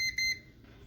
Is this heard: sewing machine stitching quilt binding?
no